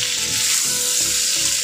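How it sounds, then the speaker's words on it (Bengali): Ash gourd pieces fry in oil in a pan just after the lid is lifted, giving a close, steady sizzling hiss with faint crackles and no speech. "এবার আবারও খুব সুন্দর আরেকটা সাইড ভাজা হয়ে গেছে"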